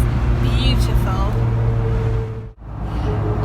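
Mk2 Ford Capri engine running on the move, a steady low drone with a strong rumble that holds throughout, briefly dipping and recovering near the end.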